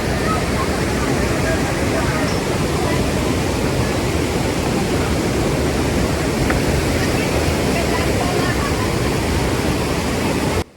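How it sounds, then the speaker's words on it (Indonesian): A roaring waterfall in Indonesia pours steadily and loudly, a dense broadband rush of water that stays constant throughout. "Air yang sangat deras, suaranya sangat menakjubkan jiwa nih ya kan"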